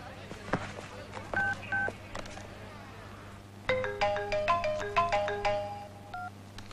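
Phone dialing tones followed by a rapid melodic ringtone of bright electronic beeps, fairly faint, with a low hum underneath.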